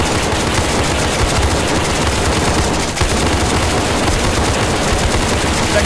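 Dense, continuous automatic gunfire and rapid shots from a tactical SCP 5K shooter video game, loud and sustained throughout with only a brief dip near the middle.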